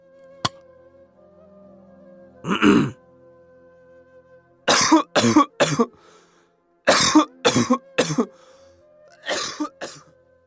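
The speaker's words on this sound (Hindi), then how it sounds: "खांसते खांसते वह चरपाई से उठ बैठा।" A man coughs in several harsh bursts, one early and then clustered fits of two to three coughs separated by short quiet gaps.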